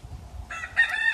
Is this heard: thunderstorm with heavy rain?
no